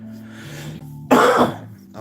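A single sharp, throaty cough from an adult with a lingering cough bursts out close to the mic after a stretch of quiet background tones.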